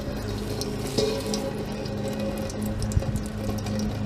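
Salt water drains steadily from a flooded pressure washer after its plug is pulled, a continuous close trickle and gush with faint knocks, no talk.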